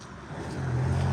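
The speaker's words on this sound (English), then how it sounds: "we've got a car coming" A car approaches along a road during a street stroll, its engine rumble rising steadily in loudness over about a second as it draws near.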